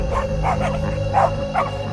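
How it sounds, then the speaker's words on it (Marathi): A dog at a grandmother's house barks loudly and repeatedly in quick, agitated yelps over a low background drone. "तिला पाहून सायलीच्या आजीकडचा कुत्रा जोरजोरात भुंकायला लागला."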